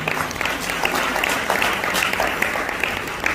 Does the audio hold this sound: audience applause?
yes